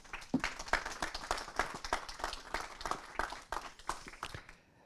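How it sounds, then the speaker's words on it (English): An audience at a conference keynote gives a brief round of applause, a dense patter of many hands clapping at moderate distance that thins out and fades. "je pense encore une fois qu'on peut les applaudir très très fort"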